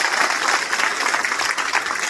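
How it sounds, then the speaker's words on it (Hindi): A dense, steady wash of audience applause at a Bal Ganesh Utsav celebration, many hands clapping at once, close and continuous for a short burst. "एट लास्ट एक बार आप सब ताली बजा दीजिए बाल गणेश उत्सव की इस उद्यान समिति के लिए"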